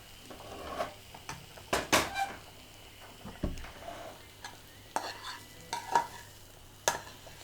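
Fried tempering goes into a pot of Kerala sambar, giving a burst of hissing sizzle, followed by spoon stirs and metal clinks against the pot, close and intermittent.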